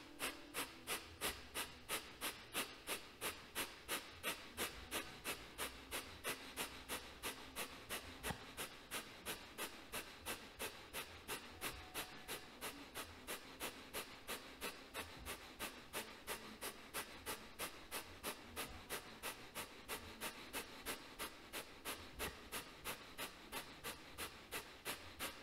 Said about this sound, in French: Kapalabhati.